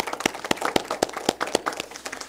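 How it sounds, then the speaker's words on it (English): Light applause from a few people at an annual meeting, distinct individual claps in a quick, uneven rhythm, fairly close and moderately loud. "Let's give her a round of applause."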